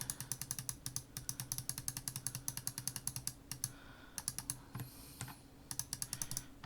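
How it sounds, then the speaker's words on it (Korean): Computer keyboard keys clack in quick, fairly even bursts of typing while working in VR software, close and crisp, with short pauses between runs and no talking. "Alt키 눌러서"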